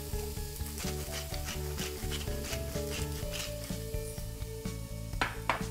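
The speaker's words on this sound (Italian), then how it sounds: "faccio rosolare leggermente i carciofi" Artichokes sautéing gently in a pan for a savoury pie, giving a steady close sizzle with scattered stir and scrape sounds over a continuous hum.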